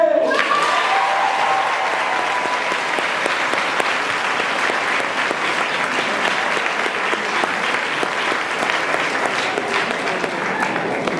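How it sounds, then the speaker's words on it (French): Loud, sustained applause from an audience at an oratory contest, greeting a man introduced as Monsieur Martel, with dense clapping filling the room throughout and a voice briefly heard at the very start. "je vous prie d'applaudir bien fort Monsieur Martel"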